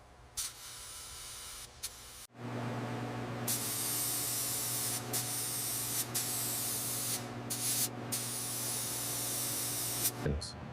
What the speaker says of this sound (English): Today, we're applying a clear coat to these 1926 Mack Model AB panels.